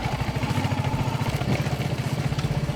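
Motorcycle engine laboring in first or second gear along a rough off-road jungle trail near Belpahari, with a steady pulsing throb and some clatter, close and continuous throughout.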